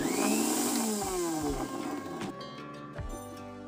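A home-assembled mixer grinder with its jar fitted runs on AC power in a test, giving a loud whirring motor drone whose pitch shifts as it spins down and restarts in short bursts, with no talking.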